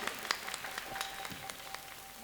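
A crowd at a religious assembly in Uttarakhand claps together, a steady, moderately loud wash of applause with a few sharper individual claps standing out near the start.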